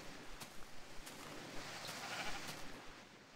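Sheep in Minecraft (Tekkit) bleating softly over a busy background of game noise, with several faint ticks spaced through it.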